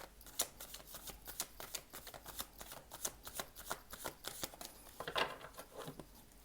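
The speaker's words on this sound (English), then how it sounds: "I will give the deck a few more shuffles." A tarot deck being shuffled by hand at close range, quiet crisp riffles and flicks of cards arriving in quick irregular bursts, with a fuller riffle near the end and no talking.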